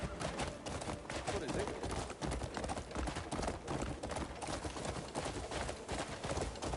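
Horse hooves clip-clop steadily in a video game, a continuous busy rhythm of hoofbeats mixed with game sound and background chatter.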